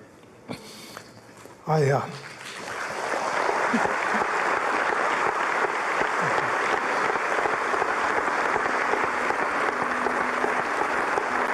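Audience applause for a pastor's public confession of sins, a steady broad wash of clapping that swells in after a brief voice and a sniff, then holds loud and continuous to the end.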